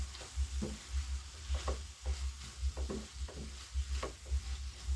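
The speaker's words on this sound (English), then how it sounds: "I go ahead and mix the cabbage with the spices." Cabbage being mixed with spices in a pan, with a steady run of soft scraping stir strokes over a low sizzle and no talking.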